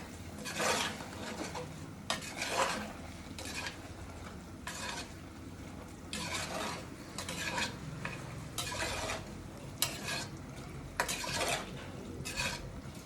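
Chicken biryani rice mixed in a pressure cooker, a spoon scraping the metal in a steady series of separate strokes, close and soft over a faint sizzle, with no voices.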